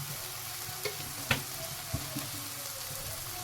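Spice paste sizzles with fish pieces in a pan while cooking a green katla dish, a constant frying hiss broken by a few sharp spatula knocks against the pan.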